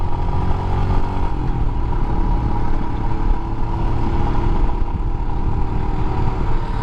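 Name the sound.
Royal Enfield Himalayan 411 motorcycle engine while riding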